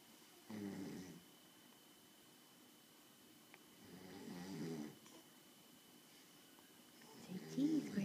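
Loud snoring from a grandpa dozing in a rocker: three slow, rasping breaths spaced a few seconds apart, close and fairly quiet overall, with soft room noise in between.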